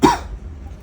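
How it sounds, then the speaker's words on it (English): A short, harsh cough bursts out close to the mic at the start of a trading card pack opening, then fades into a quiet room hum. "Ooh, sorry, random coughing fit right there."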